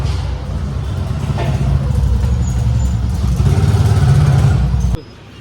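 A motorbike engine runs close by with a steady low rumble for about five seconds, then cuts off abruptly, with some outdoor background noise around it.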